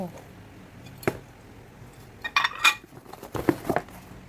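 A metal frying pan clatters and clanks in short bursts as it is handled up close, a few scattered knocks then a quick cluster of rattling hits.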